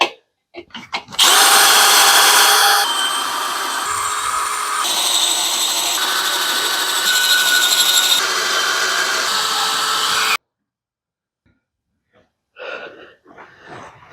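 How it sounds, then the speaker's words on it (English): A power drill bores holes in thin square steel tubing for a wheelbarrow go-kart frame, a steady high whine for several seconds with shifts in pitch, then it stops and brief noises follow. "I at least will get all the holes drilled and done for that now"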